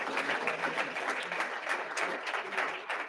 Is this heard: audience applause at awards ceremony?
yes